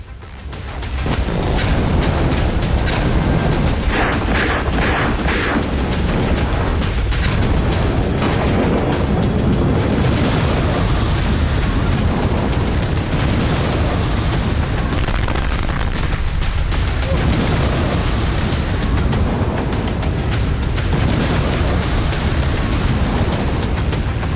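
Bomb blasts and heavy booms in news footage from Beirut, a dense, loud barrage of explosions and gunfire-like bursts that continues almost without a break.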